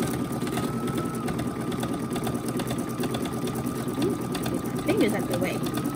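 An NQ1700E embroidery machine stitches an in-the-hoop bag with a steady, fast mechanical hum and needle chatter that runs continuously at moderate volume.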